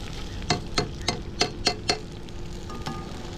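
Soaked rice fries in a pan to drive off its water, a low sizzle punctuated by about six crisp scraping stirs at an even pace, then quieter frying.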